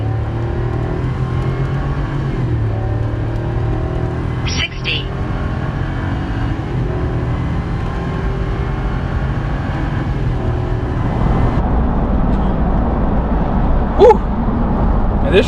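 A gas V8 heavy-duty pickup truck pulls hard through a 0-60 acceleration run, its engine drone climbing steadily in pitch as it gains speed, loud and continuous from start to finish.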